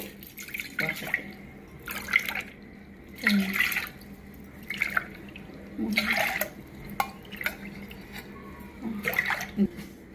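Water splashes and pours into a pot of sorghum in repeated bursts, each lasting about a second, with faint speech-like sounds between them and a low background hum.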